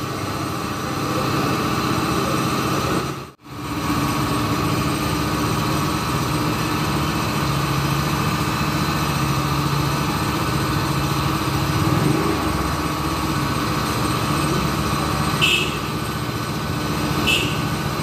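A 1994 Honda Astrea Grand motorcycle engine idles steadily and close on a workshop hydraulic lift, a constant mechanical hum with a brief cut-out early on and faint clicks near the end.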